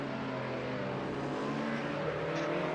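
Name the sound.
race car engines cackling under engine braking, Project CARS 2 video game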